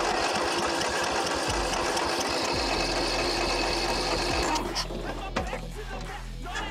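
A Murray 18hp riding mower engine, left with its engine cover off, is cranked on battery power with a rapid low chugging for a few seconds. It then shifts to a steadier, loud mechanical drone that changes near the end.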